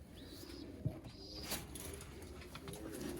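Racing pigeon from a one-loft race cooing softly at a distance, a few low murmured coos over steady background hiss with a faint chirp or two.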